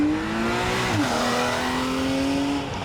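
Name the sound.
Porsche 911 engine accelerating at full throttle on track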